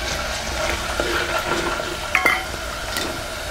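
Curry leaves, cumin and mustard seeds sautéing in a hot pan for Maharashtrian masale bhat, a steady close crackling sizzle with brief sharper pops and a faint scrape or stir partway through.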